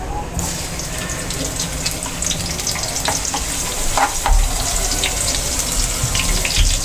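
Garlic sizzles in a hot pan for pork offal adobo, a steady, close frying crackle with stirring clatter and brief scrapes over its few seconds.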